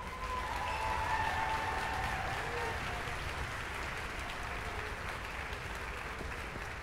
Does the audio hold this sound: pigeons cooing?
no